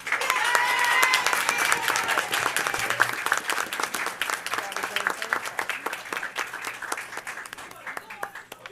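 An audience at a school board meeting gives a big round of applause for fourth and fifth grade students. Dense clapping starts loud and thins into scattered claps as it fades toward the end.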